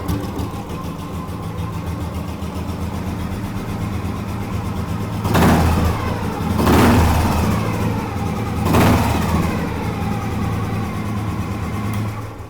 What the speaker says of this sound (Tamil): நான் அகெயின் ஸ்டார்ட் பண்ணி காமிக்கிறேன் பாருங்கள்.